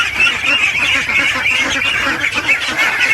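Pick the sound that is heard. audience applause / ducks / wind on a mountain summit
ducks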